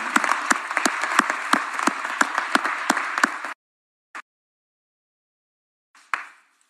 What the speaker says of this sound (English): may I ask you to applaud what the administration has done here